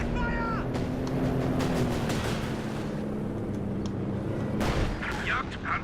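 Artillery booms and gunfire crash repeatedly in a real-time strategy game battle with a Jagdpanzer, heavy explosions rumbling under a tonal hum, and a voice talks over the action.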